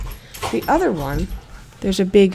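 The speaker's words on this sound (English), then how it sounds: "my two dogs are going crazy playing" Two playful dogs whimper and yip in short, rising and falling cries with a few sharp yelps, close by and loud, while a person talks over them.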